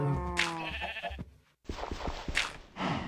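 Sheep bleating in Minecraft, the game's animal sounds coming as a few clear, wavering bleats separated by brief gaps, close and fairly loud, with a short silent break in the middle.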